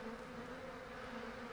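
Bees buzzing around a hive in The Sims 3, a faint, steady droning hum that holds even and continuous throughout with no voices.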